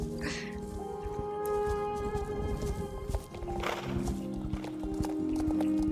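Horse hooves clip-clop at a walking pace in the online game Star Stable, steady repeated footfalls over ambient game music and background tones, with a soft whinny-like sound early on.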